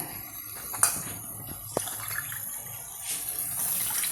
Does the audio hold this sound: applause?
no